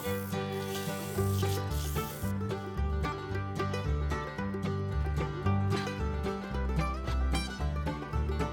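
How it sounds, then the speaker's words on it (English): Rhythmic rubbing strokes of sandpaper on the inside of a wooden honey jar lid, moderately close but partly under louder background music. "Before I shape the outside, I sand the inside, running through the grits for a smooth finish."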